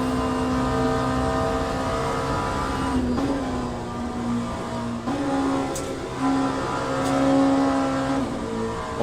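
A race car engine in the Le Mans Ultimate racing game roars loud and steady throughout, its pitch stepping down and climbing again as gears change, with no talking.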